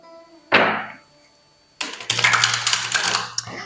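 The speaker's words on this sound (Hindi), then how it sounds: "let's shuffle up your cards first" A deck of tarot cards is shuffled up close. One short riffle is followed by a pause, then a longer burst of rapid, papery flicking that runs to the end.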